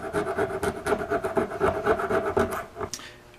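Hand filing sprue remnants off a cast wedding ring: a rapid run of short, rhythmic rasping strokes, close and fairly loud, slowing near the end before a final scrape, with no talk.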